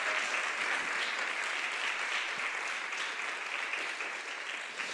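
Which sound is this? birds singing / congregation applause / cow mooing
congregation applause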